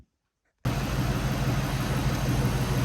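A 2003 Cobra engine fitted with a new intake catches after a moment of silence and settles into a loud, steady idle with a faint high whine on top.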